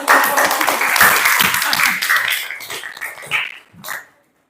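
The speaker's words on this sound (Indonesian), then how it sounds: "tepuk tangan." A classroom group claps in a brisk burst of close hand clapping that thins into a few last claps and then stops.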